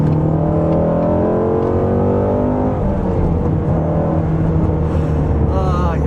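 A 2020 Shelby GT350 V8 cruising on the highway rumbles steadily from inside the cabin with the windows up, a deep, continuous engine drone with rising harmonic tones as it pulls, no talk over it.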